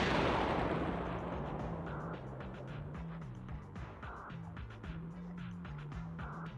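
A video-game explosion in Mega Mech Fight: a loud opening blast that rolls and decays, followed by a rapid string of sharp pops and bursts with tonal game effects layered underneath, no voices.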